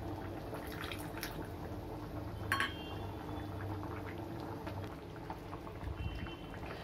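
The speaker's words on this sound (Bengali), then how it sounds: "এখানে আমি কর্নফ্লাওয়ার গুলে রেখেছি" Chili chicken with cornflour slurry simmers in a pot, a steady soft bubbling with a brief clink of a utensil midway, no voices.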